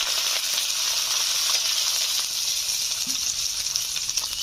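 Green chillies sizzling in hot oil in a pan along with garlic, a steady loud hiss of frying that holds throughout without pause.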